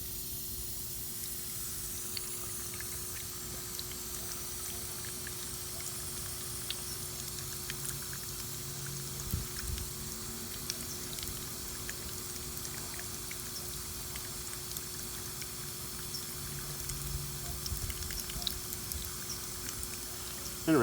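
Water rushes from an opened valve through a pipe, a steady broadband hiss and spray that holds level throughout with a constant electrical hum beneath it.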